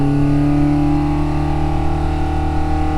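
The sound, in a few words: V8 Husky engine revving wide open on engine dyno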